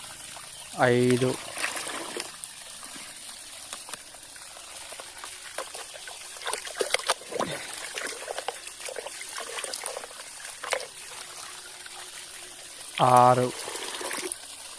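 Water is poured glass after glass while mixing a maize weed-killer spray, giving a faint trickling and splashing beneath a voice counting aloud, with a couple of brief louder bursts.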